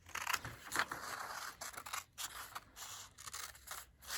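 Scissors snip and scrape through paper while cutting around a drawn hill for a kids' craft, a close series of crisp cuts with short pauses between them.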